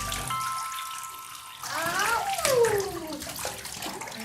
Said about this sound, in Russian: когда вот сюда наливаешь воду, эта мельница крутится